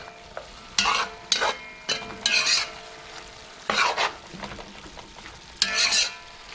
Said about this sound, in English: We'll let that fry.